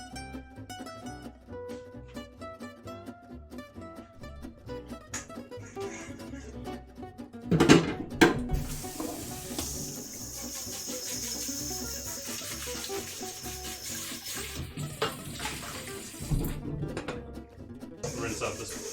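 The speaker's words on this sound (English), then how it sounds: "Rinse out this, clean out this big bowl" Water runs in a kitchen sink as a big bowl is rinsed clean. A steady hissing rush starts partway through and continues with small splashes and clatters, after quieter kitchen sounds at the start.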